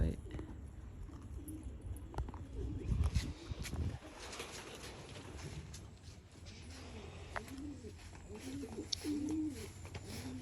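Pigeons coo softly inside a newly built loft for young birds, low repeated calls mixed with wing flutters and shuffling, while a person speaks nearby.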